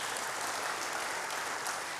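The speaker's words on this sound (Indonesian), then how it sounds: "Berikan tepuk tangan bagi Tuhan." A church congregation applauds together in a steady, dense wash of clapping that holds at an even level for the full two seconds, with no voices above it.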